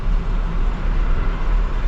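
Truck engine idling and rumbling at a roadside dhaba as it pulls in to park, a steady low drone close by with no talk.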